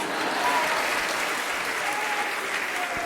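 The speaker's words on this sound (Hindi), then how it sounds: "तालियां तो देते हैं आप लोग" A large seated audience at a Jain initiation ceremony at Tilwara Ghat in Jabalpur applauds in a steady, dense wash of clapping that holds evenly for several seconds, with faint voices briefly audible beneath it.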